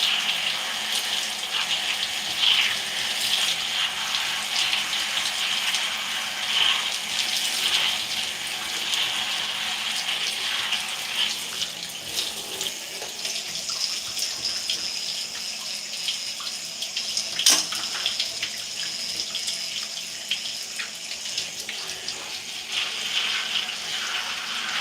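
Tap water runs steadily into a sink while hair is being rinsed out, a continuous splashing rush at moderate level with small shifts and an occasional louder splash, no voices.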